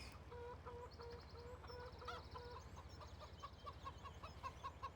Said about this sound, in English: Then right around the corner is chickens.